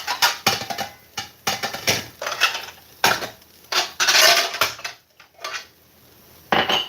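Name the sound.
dishes being put away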